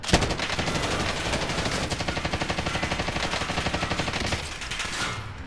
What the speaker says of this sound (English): Oh, I am under fire.